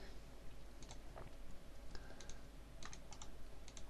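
Rapid computer keyboard clicking while playing a video game, in short bursts of a few taps with a steady background hum.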